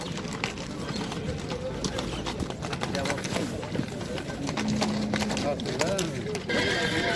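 Horses at a livestock market in Özgön, with hoof clatter, stamping and scattered animal noises amid a busy crowd, and people talking throughout.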